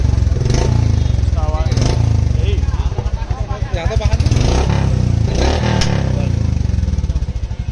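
Royal Enfield Classic Reborn 350 BS6 motorcycle fitted with a short Punjab exhaust and cat can, revving loudly and continuously up close, the throbbing exhaust swelling and dropping, with someone talking over it.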